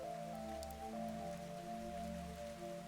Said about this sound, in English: Yim continued to walk through the rain.